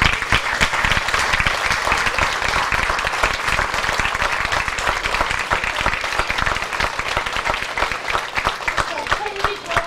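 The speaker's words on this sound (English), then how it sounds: "let's give them a large round of applause for their hard work" A large banquet audience at a 2005 high school sports hall of fame dinner claps continuously for the full stretch, dense and loud. Scattered voices mix in with the sustained applause.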